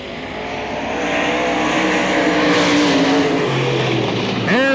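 Late model race cars in a heat race at Hamilton County Speedway, a dirt track, in 1993, their engines droning loud and steady as one car swells closer, then an engine revs sharply at the end.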